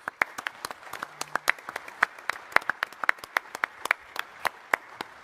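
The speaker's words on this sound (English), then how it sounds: "Let's give the panel a round of applause, please." Scattered hand claps ring out in a quick, uneven rhythm from a small group applauding a panel at a military symposium, sharp and distinct rather than a dense roar.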